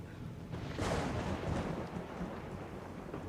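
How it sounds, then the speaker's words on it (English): Rain and rolling thunder in a video game, a steady broadband downpour with a deep rumble swelling near the start and fading slowly, no voices over it. "Good rain sounds, I'll tell you that."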